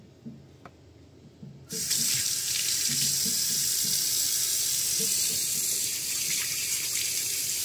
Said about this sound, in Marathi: आणि हात धुया मस्तपैकी.